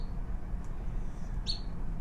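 A single short, high chip beep from a western nuthatch rings out once, faint over a low steady background hum.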